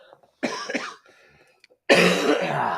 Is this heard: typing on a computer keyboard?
no